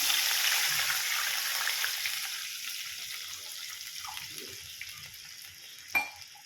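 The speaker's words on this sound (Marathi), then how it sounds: "एक गिलास पाणी टाकलेलं आहे." Glass of water poured into a pan of browned garlic for mung bean amti, a hissing sizzle that fades over several seconds, ending with a small clink.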